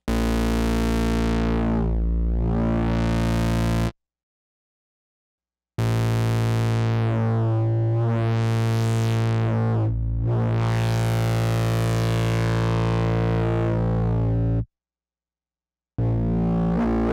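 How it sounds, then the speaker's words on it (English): An Octave CAT synthesizer plays a loud, gritty tone through its four-pole filter with resonance turned up, the filter sweeping down and up in whistling arcs, broken by two short silences. "Now let's increase the Q for a more resonant sound."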